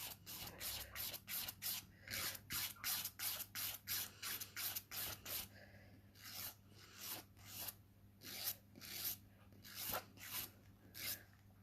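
Nails are being filed, a quiet, close, rhythmic scratching of repeated short strokes, steady at first and then slower with brief pauses, faint and alone without talk.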